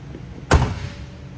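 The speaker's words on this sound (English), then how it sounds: "I'm going to go ahead and shut the hood" A single heavy thud as the hood of a 1967 Chevrolet Corvette slams shut nearby, with a short low rumble fading after.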